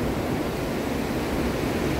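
Sea waves wash onto a beach with rocks and drifting branches on a sunny day, making a continuous, loud, broadband hiss of surf with no distinct breaks and no talk.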